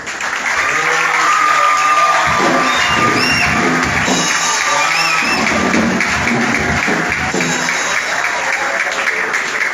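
A church congregation applauds steadily and loudly, with scattered cheers and shouts rising through the dense, continuous clapping.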